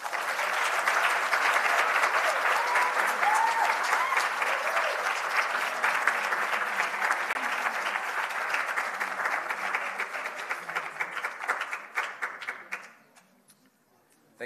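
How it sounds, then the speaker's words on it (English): Sustained audience applause at a research symposium award announcement for best master's student poster, dense steady clapping from a crowd that holds for about twelve seconds before tapering off to a few last claps. "Thank you for the claps"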